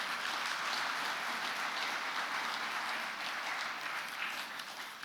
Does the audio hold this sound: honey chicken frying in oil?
no